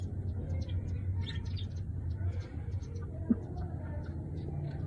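A hen and her chicks feed on millet, giving faint, scattered high chirps and small pecking ticks over a steady low rumbling background, with no talk.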